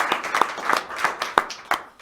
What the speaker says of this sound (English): one more round of applause for Karen Horan.